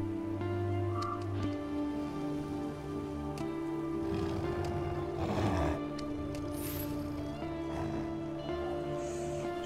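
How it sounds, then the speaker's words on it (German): Lions roar in the Assassin's Creed video game, a throaty rumble that swells over steady game music and ambience, loudest around the middle of the stretch. "Warum hat man Löwen bei sich?"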